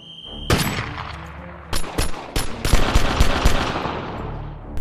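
Gunshots at a SWAT team's shooting practice in a film, beginning with a sharp single shot and followed by a series of loud, rapid cracks with ringing metallic decay, close and forceful.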